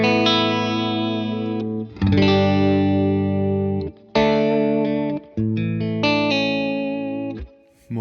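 Electric guitar fitted with TV Jones pickups played through a Victory VC35 The Copper amp, bright chimey chords with light gain and reverb, strummed in several sustained phrases separated by short breaks.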